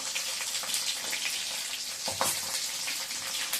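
Dried red chillies crackle and sizzle steadily in hot oil for a tomato rice dish, with light stirring scrapes close up and no talking.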